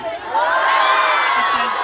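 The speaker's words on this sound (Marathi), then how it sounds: "हा जरा जोरदार टाळ्या होऊ द्या आमच्या सगळ्यांसाठी." An audience at a school short drama performance erupts in loud, close cheering and whooping, sustained for the whole moment.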